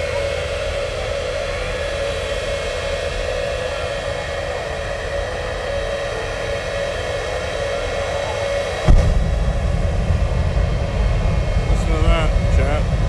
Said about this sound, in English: The jet truck.